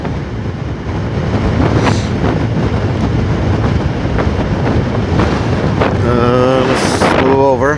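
Engine of a 2021 Kawasaki Ninja 1000 motorcycle under way, a loud continuous drone buried in heavy wind rush throughout, with a few rising revs near the end.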